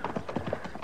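Horse hooves clip-clop in a steady, even rhythm as sound effects in an old-time western radio drama, fairly close and with no voices over them.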